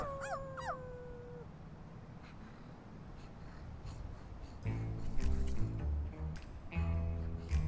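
Dogs in the video game My Friendly Neighborhood give a few short, gliding high howls and whimpers at the start, then go quiet under a low ambient backdrop, and later a deep, layered musical drone swells in.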